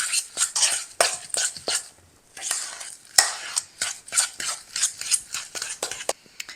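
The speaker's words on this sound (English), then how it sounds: "I'm using a fork because I just find it's really easy to get that almond flour through your butter when you use a fork." A fork scrapes and clinks through almond flour and butter paste in a bowl, in quick uneven bursts of stirring that repeat close up with short pauses between strokes.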